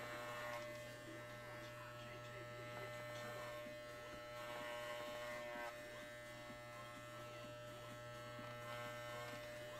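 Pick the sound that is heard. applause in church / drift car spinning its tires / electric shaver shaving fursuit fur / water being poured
electric shaver shaving fursuit fur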